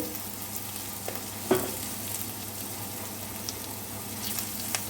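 Sweet potato pieces frying in a pan with spices, a continuous close sizzle with an occasional spatula knock and stir, no voices.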